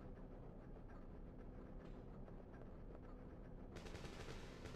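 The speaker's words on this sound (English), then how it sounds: "Oh shit, we got gunfire already?" Gunfire in the survival horror game Dino Crisis: faint, steady rattling shots that are low in level and continuous, ending in a brighter burst at the close.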